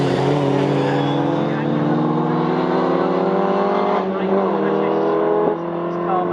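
Historic racing cars of the Equipe Libre series at Snetterton circuit, loud engines roaring and holding a droning note as they pass, with a commentator talking over the noise.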